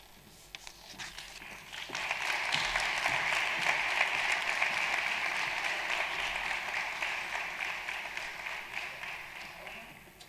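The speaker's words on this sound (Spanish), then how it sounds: "Otro aplauso para don Luciano, claro que sí." Applause for don Luciano at a closing ceremony and awards event, faint scattered claps that build into a steady wash of clapping from the crowd and hold for several seconds, fairly distant.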